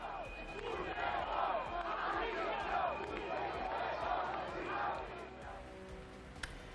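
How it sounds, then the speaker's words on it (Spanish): Outdoor crowd at a military parade in Spain shouting and booing at Prime Minister Sánchez, a dense chorus of rhythmic chanted cries rising and falling continuously from a distance, with scattered voices mixed in. "Con el final del desfile volvieron los gritos y abucheos a Sánchez"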